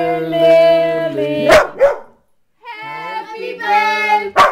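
A dog gives a few loud, close, high yipping barks with whimpering tones, set among excited voices during a birthday celebration.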